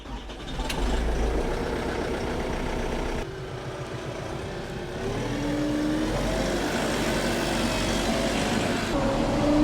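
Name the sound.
tractor engine warming up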